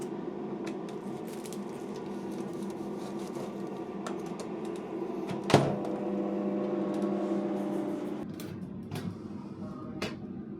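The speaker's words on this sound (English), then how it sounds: "I'm gonna melt it inside of my microwave" A household microwave oven running steadily while metal melts inside, with a continuous hum, sharp crackles and a brief loud pop midway, plus scattered clicks.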